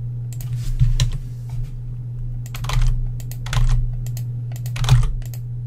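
Fingers tap keys on a computer keyboard while entering values into a simple JSP web form, bursts of close, crisp clicks in short runs separated by pauses over a steady low hum.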